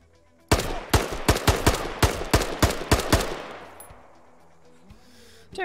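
A 7.62 AK rifle fires in a video game, around a dozen sharp, loud shots in a fairly regular burst-like rhythm, followed by a fading echo and quiet tail.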